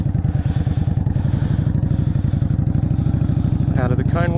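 A motorcycle engine runs at an even throttle during low-speed riding practice through cones, a steady pulsing mid-range drone close up, with a brief whine near the end.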